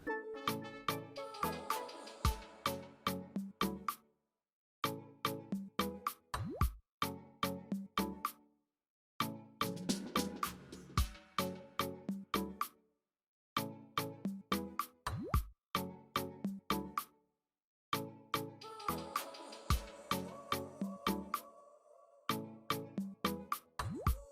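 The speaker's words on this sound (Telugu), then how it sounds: "పచ్చల కూర నీళ్ళలో బాగా కడుక్కోండి." Yam spinach leaves are washed by hand in water, giving close, quiet splashes and plops in irregular bursts separated by short silent pauses.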